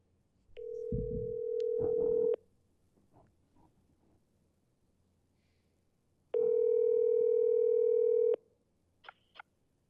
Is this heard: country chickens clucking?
no